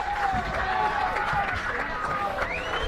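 Crowd at a suburban Australian football final roaring after a kick at goal, a broad steady swell of cheering heard from a distance under a commentator's continuous talk.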